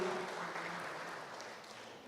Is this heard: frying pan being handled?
no